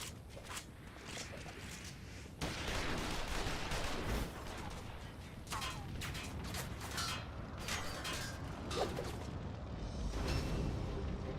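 Gunfire aimed at the player in the video game Final Fantasy XIV Stormblood, a series of sharp irregular cracks and bursts over rattling mechanical clatter and a constant background din.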